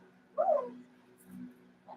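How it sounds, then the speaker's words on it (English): A single short, faint dog bark or yip, followed by quiet low murmuring in the background. "He's staring at me barking."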